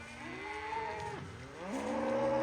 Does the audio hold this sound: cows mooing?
yes